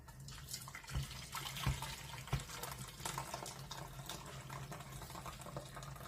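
Water pours steadily from a pot as boiled potatoes are drained, a close rushing splash with a couple of soft knocks, no speech.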